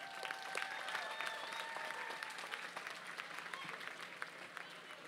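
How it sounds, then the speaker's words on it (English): A large audience at a university commencement ceremony applauds steadily, a dense crackle of many hands clapping throughout, heard from a little distance in a big room. "Give them a big applause."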